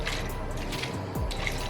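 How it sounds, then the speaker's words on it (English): Homemade creamy holiday drink is poured into a glass: a soft, brief liquid trickle and splash close by, quiet and without talk. "So we're gonna pour that into our glass."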